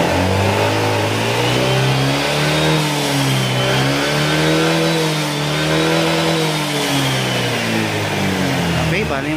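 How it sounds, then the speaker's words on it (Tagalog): A Honda Click 125 scooter engine revs loud and close while still cold, after a top overhaul with a new block set, its pitch rising and falling in repeated surges over a constant rumble. "Yan, bibiritin ko siya bali malamig pa yung makina niya."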